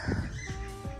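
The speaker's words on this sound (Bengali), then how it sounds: "দেখেন এই দেখেন টিয়া পাখি ডাকতেছে" Parrots call on a farm in a short burst of harsh, squawking cries, close and fairly loud over a quiet background.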